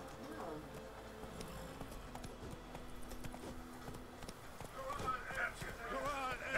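Hooves of Roach, a horse in a video game, clip-clopping at a run in a quick steady rhythm, fairly quiet, with a voice talking over it.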